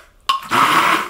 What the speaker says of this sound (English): I'm going in with my immersion blender to make sure that I don't have any lumps in there